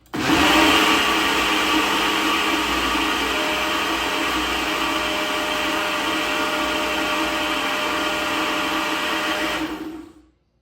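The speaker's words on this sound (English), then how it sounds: "I'm going to blend my I'm using the Ninja Professional." A Ninja Professional blender whirs loud and close at a steady high speed for about ten seconds, blending ingredients for a fish curry in coconut milk, then cuts out and spins down at the end.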